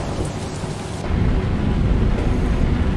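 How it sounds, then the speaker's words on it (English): Rain and thunder from a weather sound mod in the truck driving game Euro Truck Simulator 2: steady heavy rain with a low rolling rumble of thunder swelling partway through, no talking. "you also download the thunder sounds, the rain and thunder sounds with it"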